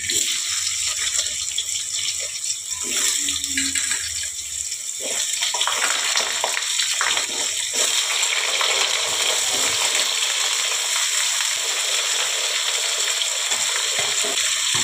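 Potato pieces drop into hot oil already tempered with five-spice, bay leaf and dried chilli, setting off a loud, steady sizzling hiss that holds for the whole stretch without talk.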